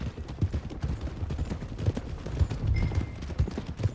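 Horse hooves clip-clop on the ground in Red Dead Redemption 2, a loose, steady run of moderately close hoof strikes with faint game ambience behind them.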